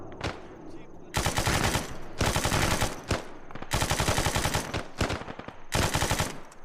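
Automatic gunfire in a World War II-style video game battle rattles out in four or five loud, close bursts of rapid shots, each lasting about a second, with quieter gaps between them.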